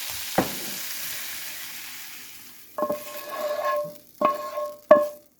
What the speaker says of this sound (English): now we're going to transfer this to a sprayed 9x9 baking dish